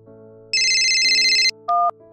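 A mobile phone plays an electronic ringtone in a Hindi family film. It gives a loud tonal burst of about one second, a short pause, then a briefer second burst. No one speaks.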